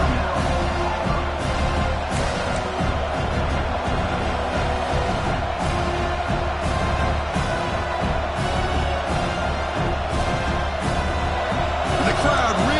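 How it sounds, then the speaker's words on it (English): A college football stadium crowd roars continuously as the home defense faces a goal-line stand, a loud, steady wall of cheering with scattered whoops throughout. "The crowd really making some noise now, trying to help out this defense to get this stop near the goal line"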